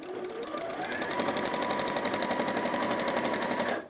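A sewing machine runs steadily while top stitching along a seam, a fast, even whir of stitches that stops abruptly at the end, with no talk over it.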